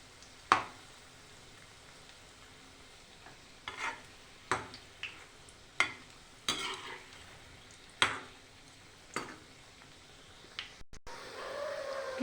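Potatoes fry in a pan with a low, continuous sizzle, broken every second or so by sharp scraping and clinking as a utensil stirs them.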